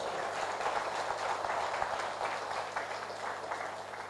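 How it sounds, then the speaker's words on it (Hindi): Audience applause at a motivational business talk, a dense steady wash of many hands clapping, sustained and fairly distant, with no voices over it. "उनके लिए एक हाथ ताली हो जाए।"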